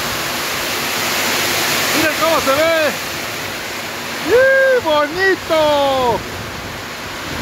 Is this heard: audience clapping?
no